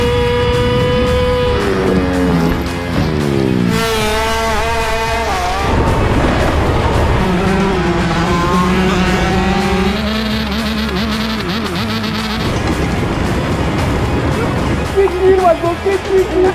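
Dragster racing cars at a drag-racing competition in the Netherlands, engines roaring and revving loudly and steadily throughout, with voices talking over the din.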